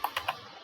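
Typing on a computer keyboard while entering Linux commands: three quick, crisp keystrokes close up at a steady pace, then a quiet pause.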